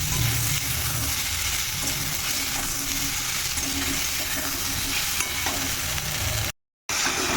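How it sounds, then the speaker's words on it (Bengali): Chopped tomatoes sautéing in a pan until soft, a loud continuous frying hiss with stirring and faint metallic clinks, steady for several seconds before a brief cut to silence near the end, no talking. "টমেটোটা একটু নরম হওয়া অবধি এটাকে কষিয়ে নেব।"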